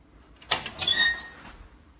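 A hotel room drawer slides open with a short squeak, a quick scrape followed by a thin, high creaking whine, close and alone in a quiet room.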